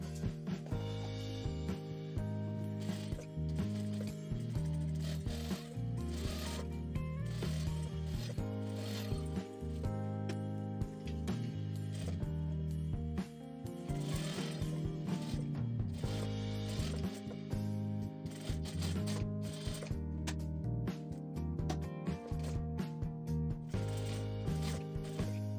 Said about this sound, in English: we'll start stitching by stitching the center front bulge for each of these